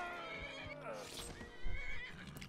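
A horse in the video game Skyrim whinnies loudly with a rising then falling call, with faint hoof clip-clop and game ambience underneath, no talking.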